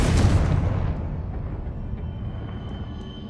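Confringo blasting spell explosion in Hogwarts Legacy, one loud booming blast with a long rumbling decay, heard alone.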